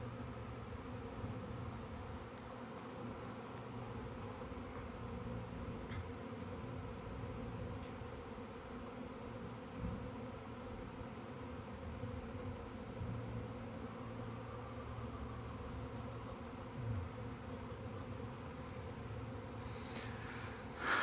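A honey bee swarm clustered in a tree drones with a steady, continuous outdoor hum for about twenty seconds. No voices are heard over it.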